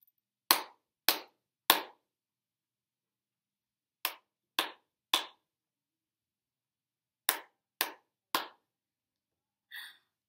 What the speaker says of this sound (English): Clap, clap, clap, tap. Clap, clap, clap, tap.